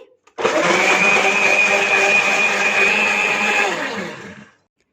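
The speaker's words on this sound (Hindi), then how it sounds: "अच्छी तरह से इसे ब्लेंड कर लेंगे।" A blender whirs steadily as it blends a vanilla ice cream and banana shake, a loud continuous motor drone of about four seconds that starts abruptly and winds down at the end, with no voices.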